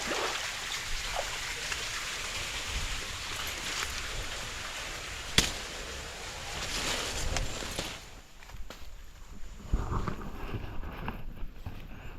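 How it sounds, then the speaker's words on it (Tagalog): Strong water rushes steadily in a stream near a coconut grove after a typhoon, a broad continuous wash that is loud at first and eases toward the end, with occasional splashes. "Lakas ang tubig ah."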